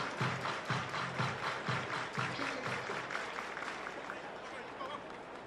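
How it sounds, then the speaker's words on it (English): A baseball stadium crowd at a Pirates versus Phillies game claps in unison, a steady rhythmic beat of hands echoing across the open ballpark, fairly faint and distant, with a looser scatter of applause toward the end. "Everybody clap your hands"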